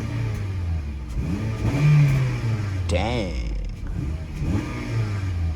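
Close by, a 2013 Acura ILX engine revs up and down several times in quick, rising bursts over a steady rumble, while someone speaks briefly.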